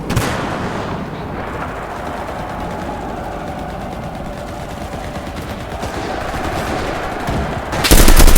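Sustained gunfire in the Enlisted video game, a dense, continuous clatter of rapid shots at steady volume that swells into a louder burst near the end, with no talking.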